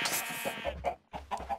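Chickens clucking in a blocky survival video game, a few short clucks and squawks in quick succession, close and clear with no talk over them.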